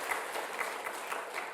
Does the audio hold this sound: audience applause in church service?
yes